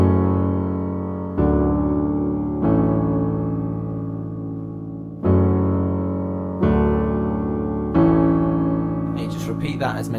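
Piano chords repeat in a steady pattern: six struck chords, each ringing and slowly decaying before the next, close and clear, with a few faint high clicks near the end and no talking.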